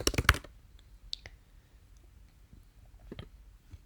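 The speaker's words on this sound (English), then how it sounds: "type in the thing of choice." Quiet typing on a computer keyboard, with a quick burst of clustered key clicks at the start and then a few scattered, isolated keystrokes.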